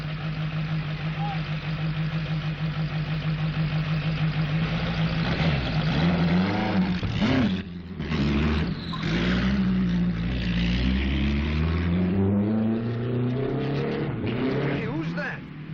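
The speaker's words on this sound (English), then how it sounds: "Look at that car go." A car engine idles steadily in an old film scene, then pulls away with rising engine tone and revving that swells and shifts pitch, while voices talk over it throughout.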